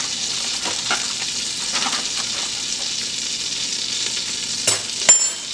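Butter melts in a pot with a steady, close sizzle and soft frying crackle, broken by a couple of sharper pops and clinks of a utensil near the end.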